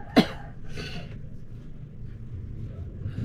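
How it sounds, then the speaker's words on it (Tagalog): A single sharp cough bursts out near the start, then a softer rough second cough follows, over a low room hum, and a faint third sound comes at the end. "Hindi huminto ang ubo ko, day."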